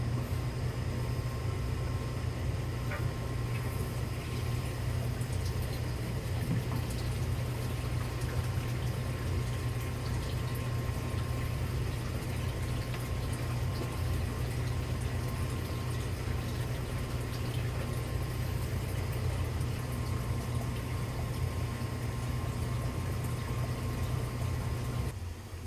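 Filtered water runs steadily into a 40-gallon breeder aquarium, a constant low rushing and gurgling fill that continues unbroken and fairly quiet throughout.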